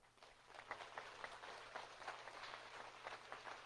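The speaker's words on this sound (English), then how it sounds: "let's give ourselves and each other a great round of applause" Graduates and guests at a graduate institute commencement clap together, a fairly faint but continuous round of applause from a large crowd with scattered sharper claps, a faint steady tone running underneath.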